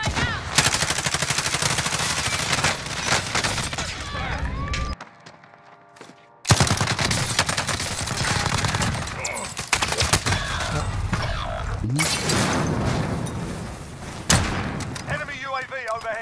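Gunfire in a first-person shooter video game: dense, loud bursts of automatic fire and shots, a brief near-silent gap midway, then more heavy firing, with voices talking over it.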